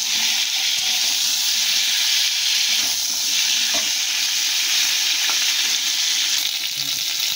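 Potatoes frying in oil for a hilsa fish curry are stirred in the pan, making a loud, steady sizzle with intermittent scraping strokes, up close and without speech.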